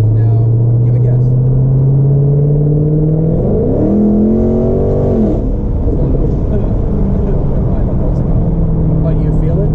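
Dodge Hellcat accelerating in 500 horsepower mode, a loud steady engine drone that rises in pitch around the middle of the run, then settles back as the car keeps pulling, with people talking over it.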